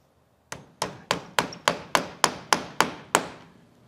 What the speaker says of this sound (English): And hammer it in place.